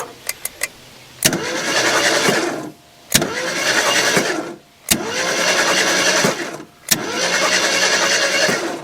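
A 1974 AMC Javelin, cut out of the trees after more than 30 years, cranks over in four long starter bursts, each a loud droning whir that cuts off into a brief gap, with a few clicks before the first.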